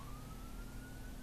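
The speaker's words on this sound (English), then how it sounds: "if you can hear, there's a siren" Wailing police siren sweeping steadily in pitch, somewhat distant, over a constant low rumble of traffic, with no voices.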